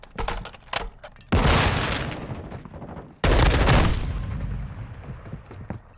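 Shotgun fire in Call of Duty: Modern Warfare 2 (2022): a few lighter shots, then two heavy, booming blasts a couple of seconds apart, each trailing off in a long, rumbling echo.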